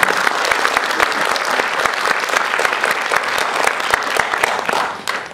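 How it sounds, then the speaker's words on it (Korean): An audience at an academic conference session claps in sustained, dense applause for a few seconds, fading slightly at the end. "큰 박수로 환영해 주십니다."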